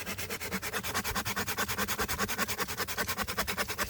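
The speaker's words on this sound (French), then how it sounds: "On va le scier pour qu'on l'attache" Hand saw cutting through wood, in steady fast back-and-forth strokes with a regular rasping rhythm, close and continuous throughout.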